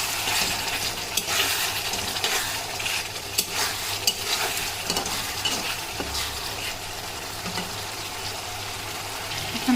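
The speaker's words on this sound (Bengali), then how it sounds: "চিংড়ি মাছটা কষানো হয়ে যাচ্ছে প্রায়।" Shrimp sautéing in a pan with okra as a utensil stirs and scrapes, steady soft sizzling under irregular clinks and scrapes of metal against the pan, no talking.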